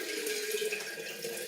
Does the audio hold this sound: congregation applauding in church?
no